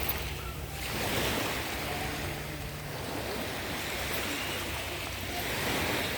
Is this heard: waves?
yes